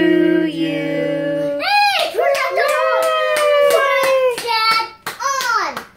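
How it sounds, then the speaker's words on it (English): Hands clap in a quick, even series at a baby's first birthday cake, close and fairly loud, while a young child vocalizes and wails over them. "Clap hands."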